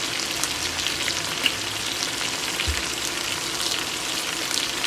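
Potatoes and cabbage fry in butter, seasoned with garlic and onion powder, giving a steady close-up sizzle with light rustling as they are tossed in the pan.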